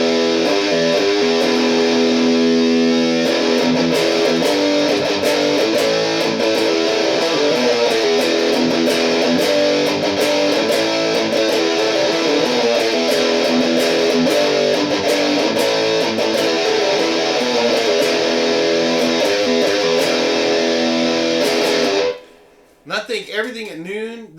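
An electric guitar roars through an Electro-Harmonix Nano Metal Muff distortion pedal with its noise gate engaged, a loud, dense, sustained wall of chords that cuts off abruptly near the end and leaves a brief quieter tail.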